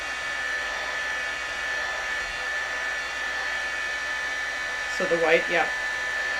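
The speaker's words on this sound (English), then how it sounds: "This one we can heat, it will dry. I'm just speeding up the dry time a little." A heat tool blows a steady, even whoosh while drying paint on glitter paper for a craft project. A brief spoken remark comes in near the end over the constant airflow.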